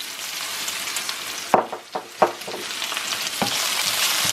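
Onions fry steadily in a pan with ginger and garlic, a dense continuous sizzle broken by several sharp stirring scrapes and clicks near the middle, close and fairly loud with no talking.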